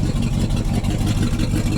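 A 1973 Ford Ranchero GT with a 351 4V V8 idles with no exhaust fitted, a steady close, loud low rumble with an even throbbing pulse throughout.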